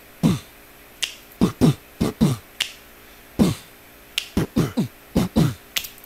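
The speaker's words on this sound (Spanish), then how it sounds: "estos snaps hay que ponerlos aquí en los canales." Finger snaps recorded as samples for a trap beat, about fourteen sharp, close snaps in loose irregular pairs and clusters with short silent gaps between them, and no talking.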